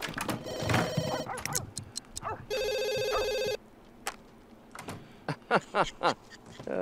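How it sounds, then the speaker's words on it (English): A phone rings in The Sims 3 video game with two loud sustained electronic ring bursts, followed by scattered clicks and a voice talking over the game audio. "That's the only time these phones ring."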